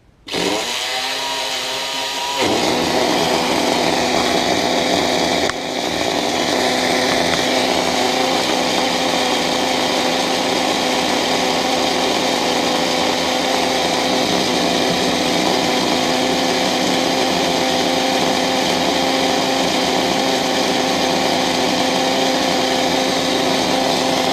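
A Tomy Turbo SRT slot car runs on a dyno, giving a loud, steady high-pitched motor whine that starts abruptly and holds constant with a faint tonal hum for over twenty seconds.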